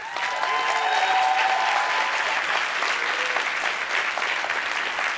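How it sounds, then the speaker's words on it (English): Sustained audience applause for a summit team at a conference, dense steady clapping from a large crowd throughout, with faint whistles or tones running beneath it. "And I want a quick round of applause for them."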